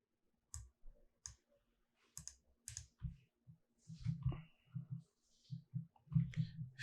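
Computer keyboard arrow keys are tapped in short irregular bursts, single crisp clicks giving way to quicker clustered presses, close and clear against a quiet room.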